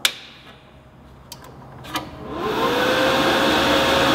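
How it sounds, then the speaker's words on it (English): A YesWelder MIG 205DS welder is switched on: a click and a couple of faint ticks give way to a steady hum and whirring fan that builds and settles into a constant drone, heard up close. "We're gonna turn the welder on."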